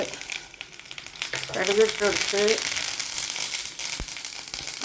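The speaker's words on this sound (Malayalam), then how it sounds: "ചട്ടി വെച്ചു, വെളിച്ചെണ്ണ ഒഴിച്ച് ചൂടായി. ഇതാ കടുകിട്ടൊടുത്ത്" Mustard seeds dropped into hot coconut oil in a pan, giving a close sizzling burst with crackling pops and a brief rough stir, then settling to a softer fry.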